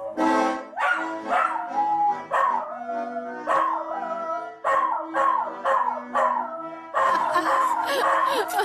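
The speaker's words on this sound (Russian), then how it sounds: "Там и собаки подпевают, подвывают." Dogs howling together in a village setting, long wavering howls rising and falling in repeated overlapping waves, close and fairly loud with brief pauses between bursts.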